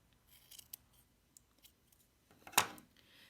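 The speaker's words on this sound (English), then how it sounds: "I'm going to trim down my spider actually pretty small." Scissors trimming a yarn pompom spider, a few scattered quiet snips followed by one louder, crisp close cut, with near silence between.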